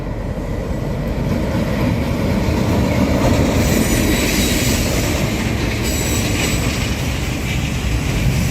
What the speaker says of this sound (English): She was hauling train 201, the 7:45 Auckland Strand to Wellington service.